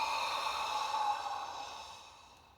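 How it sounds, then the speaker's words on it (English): A big, breathy inhale during a guided meditation session, drawn steadily for about a second and then fading away, soft and close with no talking. "Let's all take a big inhale together"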